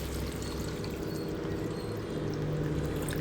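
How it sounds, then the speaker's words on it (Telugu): Water poured into a pan while cooking foxtail millet upma, a steady, fairly loud splashing pour that runs continuously and unbroken with no voices. "4 కప్పులు వాటర్ పోస్తుంది."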